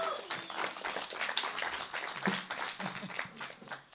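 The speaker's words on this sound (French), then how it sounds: "On peut l'applaudir." An audience at a small living-room concert applauds a guitarist as the band is introduced. The clapping is moderate and uneven, with rapid overlapping claps that rise and fade over a few seconds.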